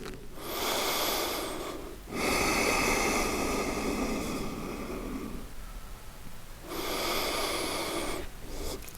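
Slow, deep breaths are taken while holding a yoga forward fold, each long audible inhale and exhale close and clear, with a brief pause between and nothing else.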